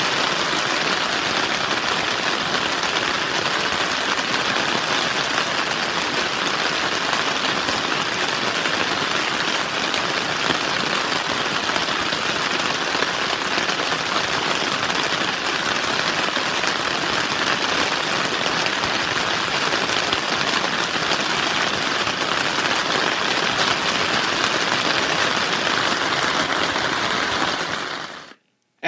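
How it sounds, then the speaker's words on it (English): Gentle rain pattering on a tent at a campground in Moraine View State Recreation Area, Illinois, a continuous close, even drumming that holds steady throughout and stops abruptly at the very end. "listening to the gentle rain fall on our tent."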